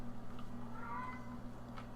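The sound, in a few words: cat meowing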